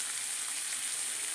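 Garlic paste frying and being stirred in a pan while making a pumpkin and prawn bharta, a steady close hiss of sizzling oil that runs without a break.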